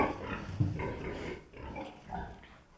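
Pigs at a hopper feeder eating pellet feed grunt softly and continuously at close range, in low snuffling bursts.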